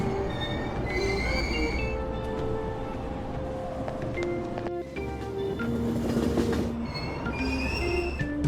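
A moving train rumbles steadily with rattling wheels and faint squealing in Persona 5 Royal, tonal hums rising and falling, continuous and close throughout.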